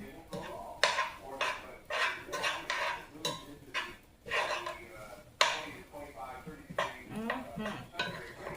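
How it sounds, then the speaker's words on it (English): Utensil scraping and clinking against a pan while seasoned ground meat is stirred for spaghetti sauce, a series of uneven scrapes and knocks close by, with some talking in the background. "So I like to mix it up again so the seasoning can get all up in the meat"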